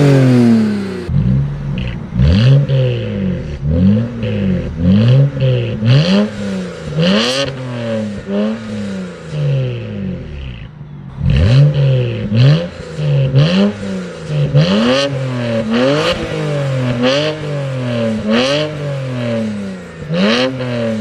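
A modified BMW 335i heard from outside, its engine revving loudly over and over in rising and falling bursts, with a short lull midway before the revs pick up again. No voices.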